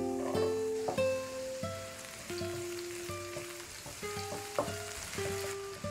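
Chopped scallions frying in hot oil in a heated wok, a continuous crackling sizzle sitting beneath louder melodic background music throughout, with no speech.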